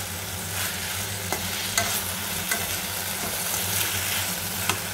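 Coriander stems fry in a pan with nearly cooked tomatoes, a steady close sizzle overlaid with frequent scraping and stirring knocks.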